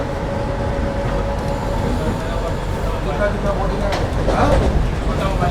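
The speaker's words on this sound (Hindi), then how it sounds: "अभी ट्रेन निकलते ही अच्छा एक्सीलरेट कर लिया है ट्रेन ने" Vande Bharat sleeper express running between Howrah and Kamakhya gives a steady, loud cabin rumble of wheels and rails as it picks up speed past Liluah station, with someone talking over it.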